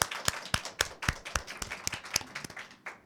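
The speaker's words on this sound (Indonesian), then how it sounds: "beri tepuk tangan untuk Pak Endro" A small group claps for a guest in a podcast studio, producing a quiet, steady patter of individual hand claps over about three seconds with no talking.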